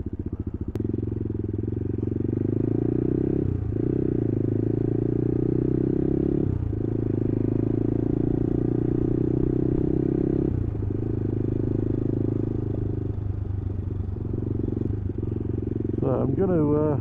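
A CCM Spitfire Scrambler motorcycle engine drones steadily and loudly on a ride, with periodic shifts in pitch as the rider changes gears, and wind buffeting throughout.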